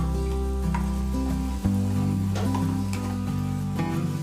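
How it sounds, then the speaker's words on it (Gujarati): Chopped onions sautéing in a pan, cooked as a base for vegetable masala bread, give a steady sizzle that runs under loud tonal background music throughout. "બંને ડુંગળીને વ્યવસ્થિત રીતે મિક્સ કરી અને સાંતળી લેશું"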